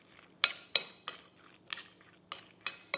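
A spoon clinks and scrapes through mince pie filling in a bowl, giving sharp, irregular knocks about every third of a second over a soft, wet stirring sound, close and clear.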